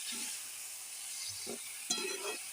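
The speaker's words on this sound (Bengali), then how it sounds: "কালো জিরে দিয়ে দিলাম, এই ছেড়ে দিলাম। আবার নেড়ে দিচ্ছি ভালো করে।" Black cumin seeds are stirred in hot oil, giving a faint, steady sizzle with a few soft scrapes of the spoon and one sharper knock near the end, and no voices.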